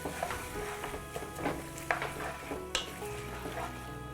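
Tomato, macaroni and cheddar cheese mixture stirred in a hot pan with a soft sizzle, scraping spoon strokes recurring every half second or so, close and moderately loud, no talking.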